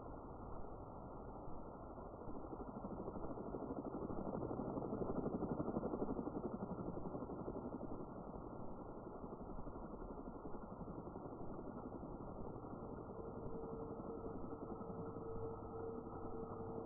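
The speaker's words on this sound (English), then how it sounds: "Still a little bit being stalked by a helicopter." Helicopter engine in the video game DayZ, a continuous muffled low drone that stays steady and distant throughout, with no other clear sounds.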